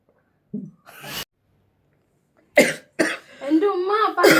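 A child coughs in a home, with two short, sharp bursts near the start, then a voice speaks close by, followed by further harsh coughs toward the end.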